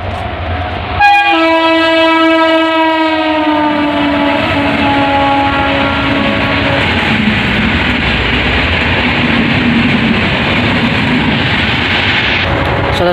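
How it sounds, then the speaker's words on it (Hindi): A train horn blares loudly at a railway level crossing with the gate down, its sustained tone giving way to the heavy rumble and rattle of the train rolling past nearby for several seconds. "ट्रेन आ भी गई है।"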